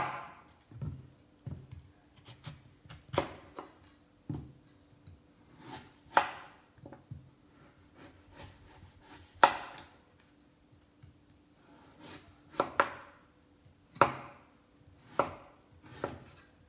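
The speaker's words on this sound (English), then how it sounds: "chop up pumpkin" A knife chops pumpkin for soup on a board, giving irregular sharp thuds and clicks with short pauses between strokes, close and fairly clear.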